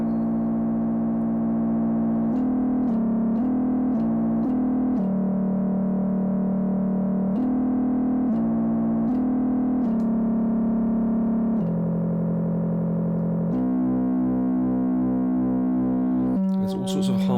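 Buzzy distorted synthesizer tones hold steady pitches that step between notes, with a wobbling beating quality and a burst of harsher noise at the end.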